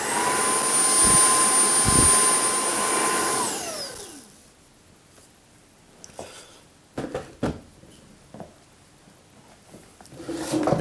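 Trouver Power 11 cordless stick vacuum cleaner running with a steady high whine that winds down and shuts off after about four seconds, followed by quiet handling clicks and knocks nearby.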